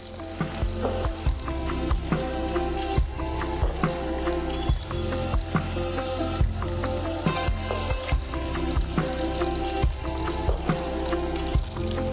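Water pours in a steady, rushing stream, about four and a half litres, during homemade soap oil making, with a constant low rumble and occasional light clanks throughout.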